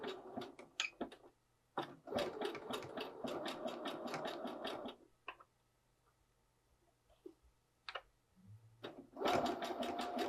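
A sewing machine topstitches a garment seam a quarter inch inside it, running in two loud bursts of rapid stitching separated by a quieter pause with a faint low hum and a few light clicks.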